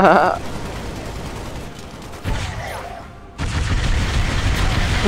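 Rapid automatic weapon fire in Halo: Spartan Assault rattles in bursts, with a loud opening volley, a quieter stretch, then a steady loud stream of fire toward the end.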